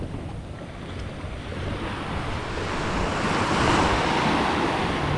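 Strong wind roars at the seashore, gusting across the microphone over steady surf with a broad, continuous rush that swells slightly toward the end.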